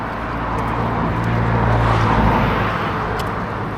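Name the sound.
cars passing on a coastal road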